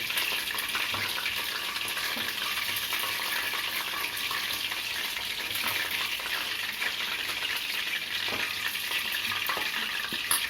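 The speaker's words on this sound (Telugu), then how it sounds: "ముక్కలు ఎలా ఫ్రై చేసుకోవాలి" Chicken pieces for biryani frying in oil, giving a steady, close sizzle with intermittent stirring scrapes, broad and even throughout, with no talking.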